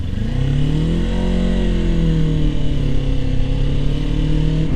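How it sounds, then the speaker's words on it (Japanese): A Kawasaki Ninja 400 motorcycle engine drones steadily at close range while riding, its pitch rising slightly then holding, with wind rumble underneath. "400cc のバイクに乗るというのはですね"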